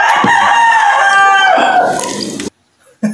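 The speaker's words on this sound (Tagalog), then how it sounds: "pati yung ingay ng manok dito sa tabi nila." A rooster crows loudly and close by, one long harmonic crow lasting over two seconds, followed by a short pause and the start of another call, next to a roasted lechon being eaten.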